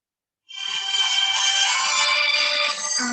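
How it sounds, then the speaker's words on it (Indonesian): Telephone ringtone for an incoming call that starts abruptly after a brief silence and keeps ringing loudly and steadily, with a bright tonal melody, and no talking. "Sebentar ya, saya ada telepon."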